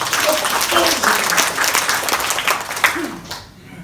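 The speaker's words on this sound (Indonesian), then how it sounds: "Tepuk tangan buat yang paling akhir saya." A church or seminar audience applauds together, a steady wash of clapping lasting a few seconds and tapering off at the end, with a voice speaking faintly underneath.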